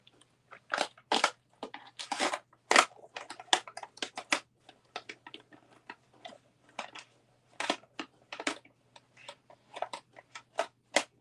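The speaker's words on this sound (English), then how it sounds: "Sorry for the noise. But I had too many markers sitting out on my desk." Plastic markers clattering and being shuffled around on a desk, a quiet, irregular series of close clicks and knocks with short pauses between clusters.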